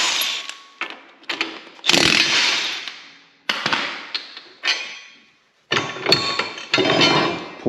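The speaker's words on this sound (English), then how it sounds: "so I'll pop these off." A power tool, likely an impact wrench, removing bolts from a backhoe subframe, sounding in several short, loud bursts separated by brief pauses.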